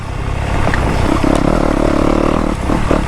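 A dirt bike engine runs steadily while riding, a loud continuous motor drone with a slight rise near the end, close and unbroken, with no talk.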